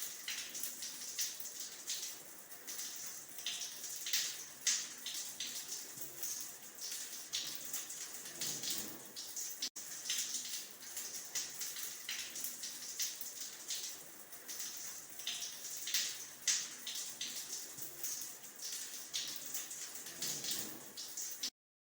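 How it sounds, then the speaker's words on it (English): Water is poured and splashes steadily, like a shower or a bathtub filling, during a ghusl ritual bath. The patter stays constant with slight dips, runs for about twenty seconds, and no one speaks. "Pour water over the head 3 times, and rub the hair so that the water reaches the roots of your hair and scalp"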